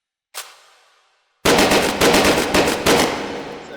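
A UMP submachine gun in the VR shooter H3VR fires a single shot, then after a short pause a loud rapid burst empties the magazine, each report ringing out close and alone.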